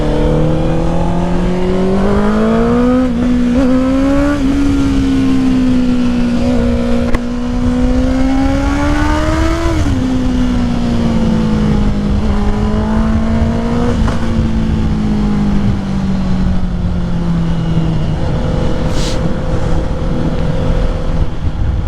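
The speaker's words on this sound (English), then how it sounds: "the DB killer is still inside the exhaust, so this is like the quietest the bike can be, and that's freaking scary because like this bike is so loud right now." Honda CBR 650R motorcycle fitted with a new full exhaust, dB killer still installed, riding along with a loud steady four-cylinder drone that rises and falls through gear changes and throttle swells across the whole stretch.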